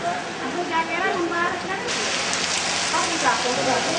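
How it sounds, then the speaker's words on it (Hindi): Steady rain pours onto wet city streets, a dense even hiss of drops on pavement that swells slightly partway through, with no voices. "कुछ समय तक हुई बारिश ने सड़कों को तो भिगोया ही"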